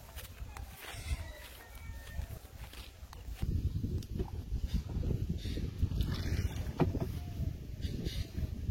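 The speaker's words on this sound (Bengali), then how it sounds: "নৌকাতে পার করে দিব" A boat crosses a short stretch of water by a village, with a low rumbling wash that grows louder midway and wind buffeting the microphone.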